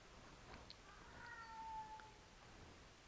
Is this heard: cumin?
no